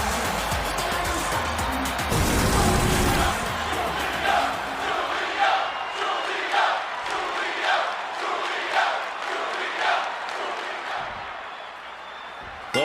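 Arena crowd in a WWE wrestling video game, a steady broad roar of cheering and shouting that swells in waves throughout, loud and continuous with no clear talk over it.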